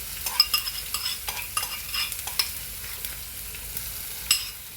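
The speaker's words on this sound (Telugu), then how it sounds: "చూడండి, ఆవాలు కూడా చిట్పట్లు అంటున్నాయి" Mustard seeds spluttering in hot oil for Andhra-style lemon rice crackle in quick irregular pops over a faint background sizzle, close and moderately loud, with no speech.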